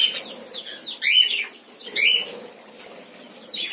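Small birds in a breeding aviary, including an albino male and a young opaline mauve yellow-face female, giving sharp chirps and calls in short bursts, with soft fluttering and rustling between them.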